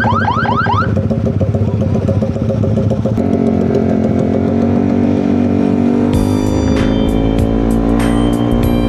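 Motorcycle engines revving and droning loudly at a street motor show, with a warbling alarm-like tone at first, then steady engine roar and rising revs close by, no talking.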